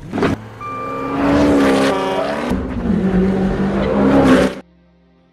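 A stunt-driving car roars loudly in a movie scene, revving hard across several seconds with a tire squeal, then cuts off abruptly to near silence.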